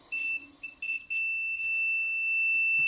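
A multimeter's continuity tester, checking a cassette magnetic head, beeps in several short, high-pitched bursts, then holds one long continuous tone, close and clear.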